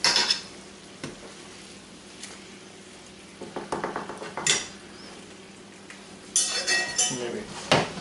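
Pork steaks turned over in a frying pan, with utensil clinks and scrapes against the pan over a steady low sizzle, a few sharp knocks and a busier clatter near the end.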